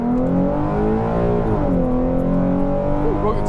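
Tuned Ford Mustang with a 3.7 V6 and 3.73 gears accelerating hard, engine revving loud and close with rising harmonics, dipping at the 1–2 shift as the tires break loose.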